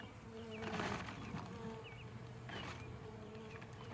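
A swarm of honeybees buzzes continuously, a dense, droning hum that swells and fades slightly as individual bees fly past, heard close outdoors with no talking.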